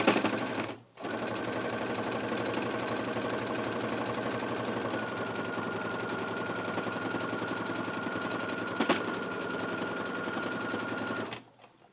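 A sewing machine stitches an inside pocket of a bag in one long, steady run of fast, even stitching after a brief opening burst, stopping abruptly at the end.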